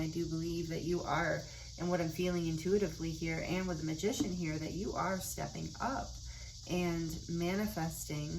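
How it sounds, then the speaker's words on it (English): Cicadas drone in a steady, shrill chorus outdoors, running continuously in the background beneath a person talking throughout. "The cicadas are going nuts right now too."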